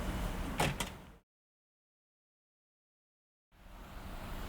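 The exterior water heater compartment door on a Roadtrek RV shuts with a single quick thud, followed by a gap of silence and then faint outdoor background.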